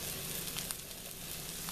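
Pork chops fry in an oiled pan, with a faint, steady, close sizzle and occasional small pops and crackles, and no talking.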